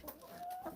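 A chicken gives a short clucking call close by, a brief rising vocalization over faint background noise with no talking.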